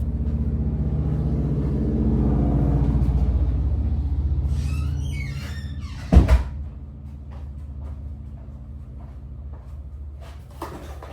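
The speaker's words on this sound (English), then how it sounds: "let me close the door real quick." A door closed nearby, heard as a single sharp thump with a short rattle after some low rumbling and faint clatter, then quiet room tone.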